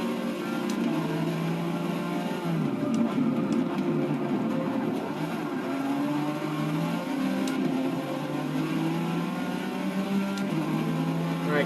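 A Porsche race car in Forza 6 drones steadily at high revs, its engine pitch rising and falling through gear changes as it chases other cars. The sound is constant and moderately loud, with no voices.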